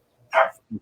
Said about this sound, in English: I don't know if you can hear my dog in the background